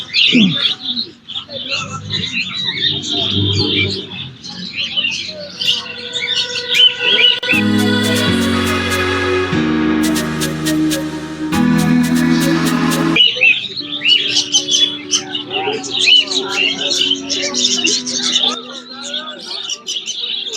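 Caged birds chirp and tweet busily at the Birnagar bird and animal market, their calls layered throughout with people talking nearby and a stretch of music playing in the middle.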